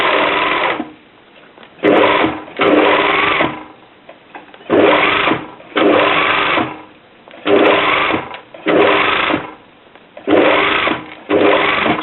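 A sewing machine stitches bias binding onto fabric in loud, steady runs, stopping and restarting about six times with short pauses between bursts.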